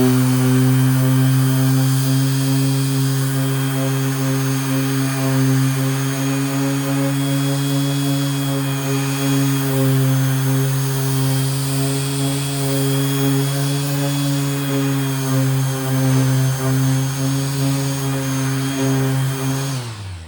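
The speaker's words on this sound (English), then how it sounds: "it's taking the finish right off" A Makita 5-inch random orbit sander strips finish off a surface, its steady motor whine and dense whirring running loud and unbroken throughout, with no voices.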